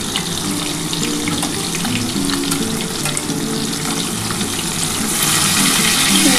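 Four pieces of rohu fish frying in hot oil give off a steady, close, dense sizzle that swells louder near the end.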